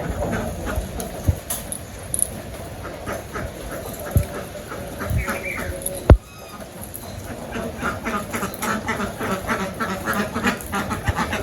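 Ducks quack intermittently at a moderate distance over a steady outdoor hiss, with one sharp knock partway through and no talking.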